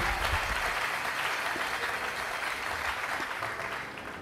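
Church congregation applauding and cheering for the king, steady dense clapping from a large room of people, sustained and fairly distant, tapering slightly at the end.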